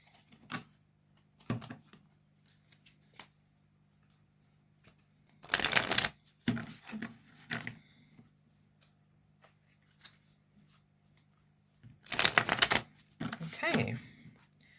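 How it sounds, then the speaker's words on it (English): Two bursts of tarot card shuffling, each a quick riffling flutter about a second long, separated by softer taps and handling sounds, close up. "we're just going to give it a quick shuffle here"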